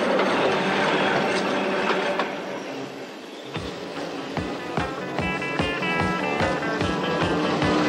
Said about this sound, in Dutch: De spiksplinter nieuwe elektrische trein nam de bochten als een modeltreintje en kronkelde door het landschap